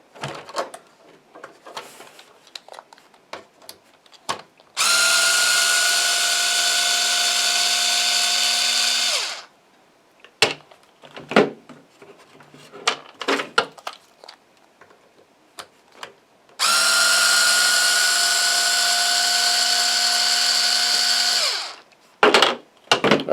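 A power drill backs two screws out of a Traxxas Rustler 2WD bumper in two long, steady whirring runs, close and loud, with scattered clicks and handling knocks between them.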